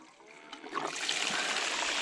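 Water gushes out of a full bucket, starting with a light trickle and then rising into a steady, close rushing splash that keeps going to the end.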